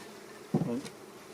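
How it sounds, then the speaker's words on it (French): Honey bees in an opened, darkened hive give off a faint, steady buzzing hum, broken once midway by a brief dull knock, with no talk over it. "Les abeilles vont rester tranquilles parce qu'elles sont dans le noir."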